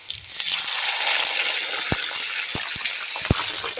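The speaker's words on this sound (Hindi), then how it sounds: "अब इसमें डाल देते हैं पानी।" A steady sizzling hiss from a hot pan as water hits it, with a few sharp clicks and taps of utensils scattered through.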